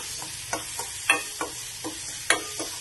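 Carandas berry pieces frying in a pan, a soft background sizzle broken by about eight short scrapes and taps as the pieces are stirred in an irregular rhythm, close up and without speech.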